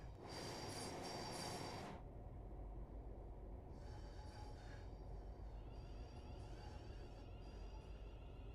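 Train in Train Sim World 6 on the Birmingham New Street to Crewe West Coast Main Line pulls into a station, a steady close rumble with high wheel squeal early on and fainter squeals later.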